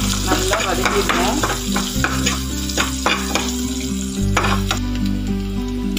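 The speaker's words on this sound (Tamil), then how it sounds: "கட் பண்ணி வச்சிருக்கிற வெங்காயம் போட்டு நல்லா வதக்கிடுவோம்." Chopped onions sautéing in a pan, a steady close sizzle broken up by the repeated scrape and clatter of a spoon stirring throughout, with no talking.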